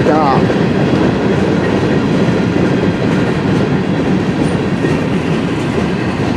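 A CN westbound mixed freight train passes close and loud in a steady roar, with a rhythmic clickety-clack of wagon wheels on the rails throughout.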